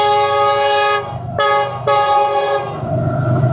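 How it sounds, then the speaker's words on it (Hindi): The 16 Down Karachi Express passenger train sounds a loud, close horn in three long blasts, the last two separated by a short gap, then the rumble of the passing train follows. "डाउन ट्रैक पर हॉर्न की आवाज़ आ गई और ट्रेन भी आ गई।"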